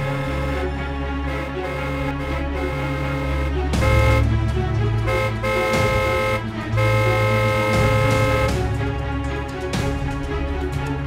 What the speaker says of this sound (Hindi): कौन है ये जो तब से पागलों की तरह हॉर्न बजाया जा रहा है?